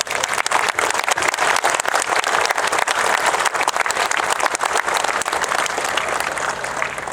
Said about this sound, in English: let's have a round of applause for the real stars of the show here, all of these great locomotives